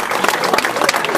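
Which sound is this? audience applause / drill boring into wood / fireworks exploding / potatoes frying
audience applause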